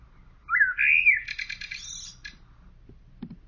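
A single common blackbird sings one phrase, opening with a rising fluted whistle and breaking into a rapid chattering, buzzy trill. Faint low background rumble runs beneath it, and a couple of soft clicks follow.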